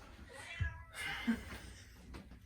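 A faint, close cat meow rising briefly amid quiet room noise, with soft voices in the background.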